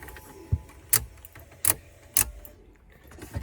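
Several sharp metallic clicks and jingles as the ignition key is turned on in a VL Commodore that won't start, with short pauses between them and a quiet background hum.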